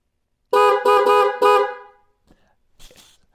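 A MotoHorn Dual Track horn fitted to a Ural motorcycle blasts four loud, close honks in quick succession, the last held slightly longer. Faint handling noises follow.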